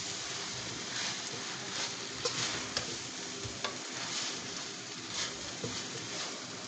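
Egg noodle chow mein is tossed and stirred in a hot pan, a quiet continuous sizzle broken by soft scraping strokes and occasional light clicks.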